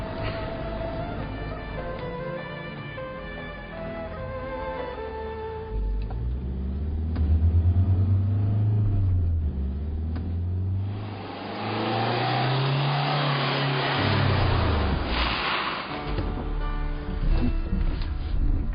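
A car drives along with its engine rising and falling through several revs, then slows with an abrupt stop; rumbling motor noise fills the cabin without talk.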